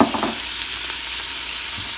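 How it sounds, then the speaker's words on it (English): Sausage, onions and garlic sizzle on the sauté setting of an Instant Pot, a loud close frying hiss opening with a brief clatter of food dropping in, then settling into steady crackle without voices. "So I'm gonna put in the sausage,"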